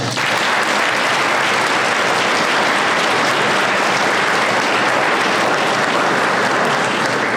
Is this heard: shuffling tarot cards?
no